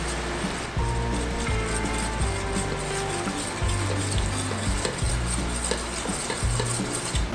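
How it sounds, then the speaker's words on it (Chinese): Thick sauce for vegan cold noodles is stirred steadily while hot water is slowly added, giving a continuous close scraping and sloshing with a rhythmic low churning throughout and no talk. "边加水边搅"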